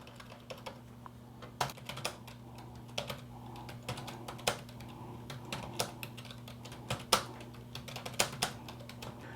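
Fingers type on a computer keyboard, tapping out notes of time codes in irregular bursts of quiet clicks with occasional louder keystrokes over a faint steady hum.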